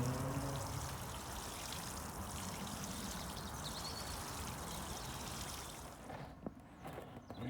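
Water pours steadily onto potato plants in a garden bed, a continuous close splashing trickle that thins and breaks up near the end.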